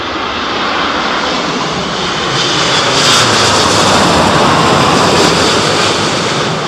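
An airplane lands at Heathrow Airport in strong storm winds, with a loud, continuous engine roar mixed with rushing wind that swells slightly midway and holds steady, without voices.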